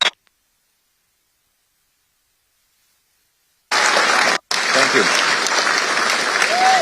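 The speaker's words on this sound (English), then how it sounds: "Give this man a big round of applause." Audience applause breaks out at an outdoor political rally about a carbon tax on farmers and food, a loud, steady wash of clapping that starts abruptly after near silence, with a brief cut before continuing.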